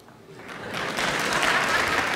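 Audience applause from a stand-up comedy crowd, starting faintly and swelling into steady clapping that stays loud to the end.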